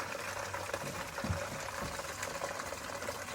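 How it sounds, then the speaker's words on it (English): Brewed beer wort for a NEIPA pouring through a hop filter into a fermenter, a continuous gurgling, splashing flow of liquid with a brief deeper glug midway and no talking. "We'll just run it through the hop filter to catch any big bits."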